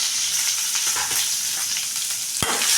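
Mustard seeds, two dried red chillies and a large onion fry in hot oil for a greens stir-fry, giving a dense, continuous close sizzle with faint crackles and one low thud near the end.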